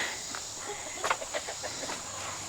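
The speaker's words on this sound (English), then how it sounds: "a whole bunch of laying hens that just started laying" Soft, scattered clucking from a few young laying hens at moderate distance, with a steady faint insect-like hiss in the background.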